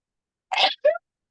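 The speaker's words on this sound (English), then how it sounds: "I'm going to sneeze." A person sneezes close by: one sharp explosive burst followed by a shorter second burst, with silence before and after.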